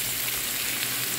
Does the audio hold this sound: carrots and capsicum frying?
yes